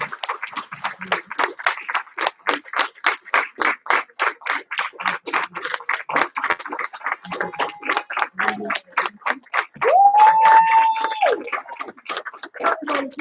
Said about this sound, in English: Let's all give her a big round of applause.